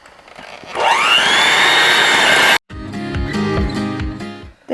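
An electric mixer whirs loudly and steadily as it beats softened butter and sugar for a Kerala plum cake, cutting out briefly before starting again with a rattling, uneven motor tone.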